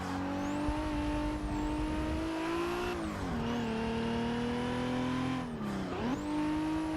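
Forza Motorsport 6 race car, a Supra or R34 Skyline, launching hard and winding up through the gears, engine pitch climbing then dipping at each shift, loud and close, tires faintly squealing, no voices.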